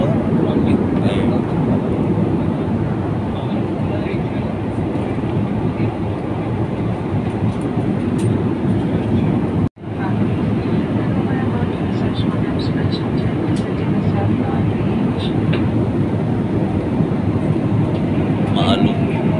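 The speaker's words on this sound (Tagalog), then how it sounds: "Aeroplano natin take off. Nandito na tayo sa taas." Cebu Pacific airplane cabin in flight just after takeoff, a loud constant engine drone and airflow roar filling the space, briefly cutting out for a split second midway before resuming unchanged.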